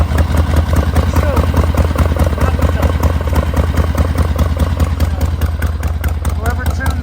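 A carbureted motorcycle engine idles after a cold start without choke, tuned slightly rich, giving a steady fast-ticking clatter and low thrum, close and loud throughout.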